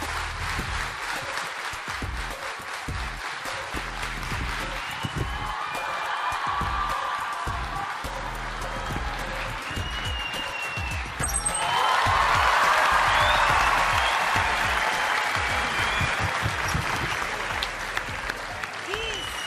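Studio audience applause on a Turkish talent show, a steady wash of clapping that swells louder about halfway through, with cheers and a host's voice talking over it.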